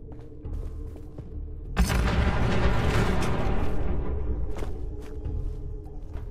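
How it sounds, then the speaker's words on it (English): Gunfire and explosions in the Fallout 4 video game: a steady low rumble builds into a sudden dense, sustained barrage of booms and crackling shots that continues loudly, with a few sharp bangs standing out near the end. "We appear to be under fire."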